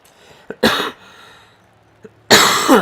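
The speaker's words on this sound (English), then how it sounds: "Just that annoying cough." A person coughs in two harsh, dry bursts close to the microphone, the first short and the second longer, with a quiet pause between them.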